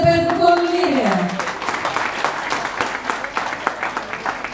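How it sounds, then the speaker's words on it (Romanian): Guests clap at a wedding, a moderate patter of applause rising after a spoken announcement and continuing steadily, with talking heard at the start. "aplauze pentru convenire"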